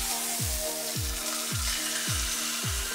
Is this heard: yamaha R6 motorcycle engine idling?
no